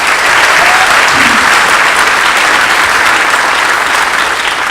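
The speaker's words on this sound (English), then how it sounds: "so we can get a round of applause for that." An audience at a school band spring concert gives a loud, steady round of applause. Dense clapping fills the whole stretch without a break and stays even in level from start to finish.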